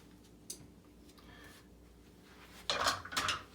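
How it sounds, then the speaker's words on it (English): A lid is set onto a bowl of homemade bread dough in a quiet kitchen, a faint tap early followed by a short clatter of the lid settling near the end. "you put a lid on it"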